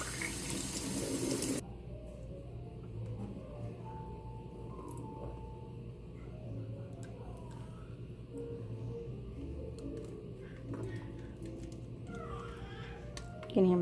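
Hot water pours from a tap to rinse out a syringe, a brief loud rush at the start, then quiet dribbling and small handling sounds, with a baby heard faintly in the background.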